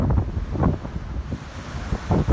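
Giant ocean waves after a storm in Boston, heavy surf surging and crashing in low rumbling bursts, buffeted by strong wind noise on the microphone, with no speech.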